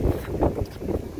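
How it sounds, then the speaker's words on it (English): Gusty wind at the Mesa Verde National Park visitor center in Colorado buffets the microphone in low, rumbling surges, loud and close, in a short burst without talk. "It is windy here"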